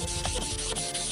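A car fuel filler door is wet-sanded with 1000 grit sandpaper in rhythmic back-and-forth strokes, a close, repeated rasping rub with short pauses between passes.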